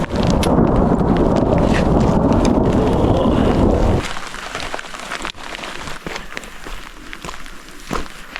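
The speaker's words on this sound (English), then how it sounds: "We were really hoping it wouldn't rain, but we didn't count on hail." A hail and rain storm with thunder hits hikers in a national park. A dense, loud roar of pelting hail and rain fills the first half, then drops abruptly to a softer, scattered patter with occasional drips and low rumbles.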